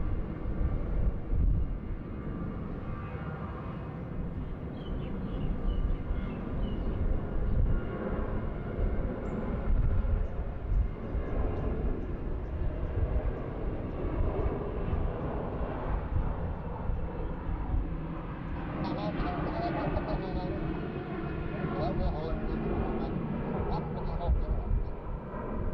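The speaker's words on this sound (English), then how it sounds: "Vistara A320neo just arriving" A Vistara Airbus A320neo arriving at Bangkok airport gives a long, steady jet roar with slow swells, some distance off, with a voice talking over it.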